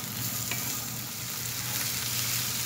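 Mushrooms sauté in olive oil in a hot pan, giving a steady, close sizzle and crackle with a faint stir around the half-second mark, continuous throughout with no voices.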